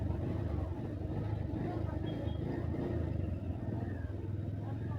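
Steady evening road traffic around a moving motorbike in Diphu, Karbi Anglong, a constant low engine rumble and road noise with no clear breaks.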